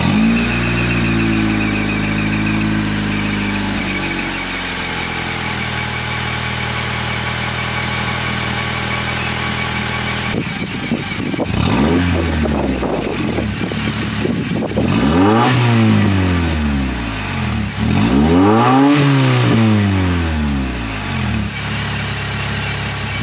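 A Honda car engine with an OBD2 EVAP delete fires up and settles into a steady idle, then gets three loud, rising-and-falling revs spaced a few seconds apart, close to the microphone with no talking.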